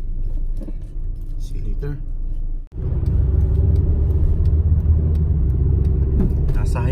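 Steady road rumble and engine drone from a car cruising on a highway, loud and close from inside the cabin. A brief dip comes partway through, and a person speaks over the noise.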